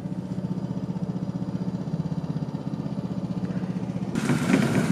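A go-kart engine drives across grass with a steady, rapidly pulsing mid-pitched chug like a lawnmower, close and continuous, then a brighter rushing noise joins near the end.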